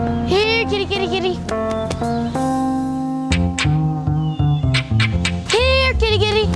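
A cat meowing in a run of loud, close, drawn-out cries, several in quick succession with short gaps, alone without talk.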